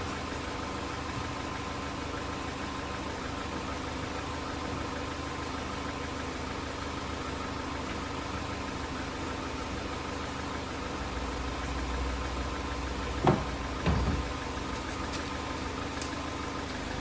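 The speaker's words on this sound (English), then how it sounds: "the car needs to be running in order to do this" A 2016 Ford Fusion engine idles steadily and fairly loud, a constant low hum with a couple of brief metallic knocks or clanks near the end.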